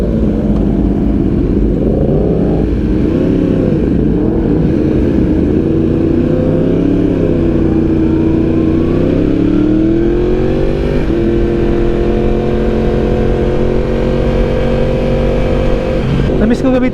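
A Yamaha R1M motorcycle with an Akrapovic exhaust runs loud and close throughout, its engine tone rising and falling through repeated revs before settling into a steadier high drone, with a voice talking over it.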